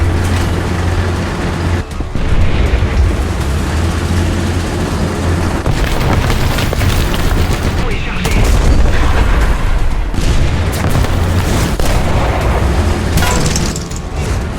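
Heavy booming blasts from the 155mm howitzer of a Char 2C tank in War Thunder, several loud shots spread through a continuous rumbling engine drone.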